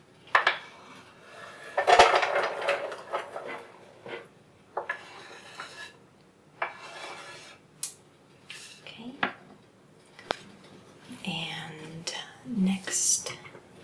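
Chopped onions go from a board into a pan in a quiet indoor kitchen, with soft scraping, clinks of metal utensils and brief rustles spread across the clip. A few faint gentle contacts follow, and there is no loud sizzle.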